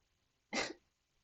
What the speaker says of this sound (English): And then the next one is a woman coughing.